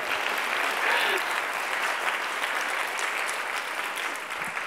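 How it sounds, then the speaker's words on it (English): Audience at a women in clean energy symposium claps in a continuous wash of applause, with some voices and cheering mixed in beneath the clapping. "Come on, clap!"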